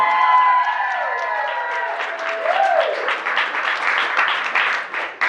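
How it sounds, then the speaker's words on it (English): A large audience gives a sustained, dense round of applause, loud and continuous throughout with a faint murmur of voices mixed in. "let me give another round of applause"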